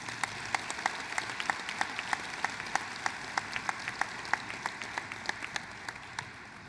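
Banquet guests at a Freedom Fund dinner applaud, a broad wash of crowd clapping with a few sharp, regular claps standing out close by, steady throughout.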